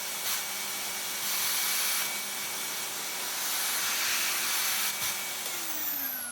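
A Hoover Portapower S1248 vacuum cleaner runs steadily with a loud, continuous airy hiss and whine, a brief dip near the end as the motor note shifts.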